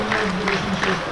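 Spectators in a football stadium clap for a player during a Sūduva versus Rhyl match, a brief steady patter of applause under a commentator's talk.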